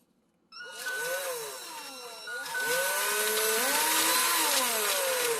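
A power drill whirs continuously and close by, its pitch rising and falling under load, then grows louder partway through.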